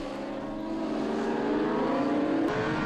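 Racing motorcycles at the Ledenon circuit give off a loud, continuous engine roar that swells slightly as the machines push on, with no voices over it.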